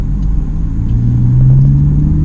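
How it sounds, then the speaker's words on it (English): A naturally aspirated Porsche Boxster S 987 engine idles with a deep, steady rumble and a low droning hum, smooth and continuous at close range. "It is a naturally aspirated engine"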